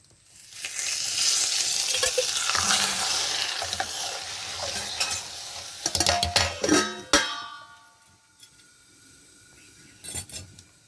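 Hot oil poured over garlic and leaves sets off a broad, loud sizzle that lasts several seconds, then breaks into crackles and utensil clinks as it fades, ending in quieter scattered taps.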